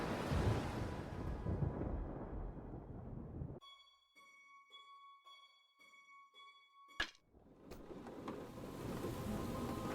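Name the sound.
storm with rain and thunder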